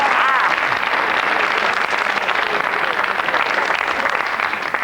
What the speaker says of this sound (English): let's have a round of applause for Nick Grinnell, our pirate captain